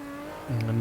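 A hypercar engine in a racing video game at a wet Silverstone, heard through the final corners, holds a steady note, then drops sharply in pitch and swells louder as it brakes and pulls away.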